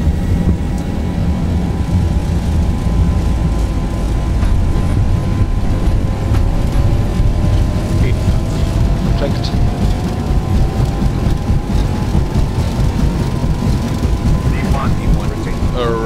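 Boeing 737 jet engines spool up to takeoff thrust in the X-Plane 11 simulator, giving a continuous loud roar with a slowly rising whine, while a voice speaks briefly over it.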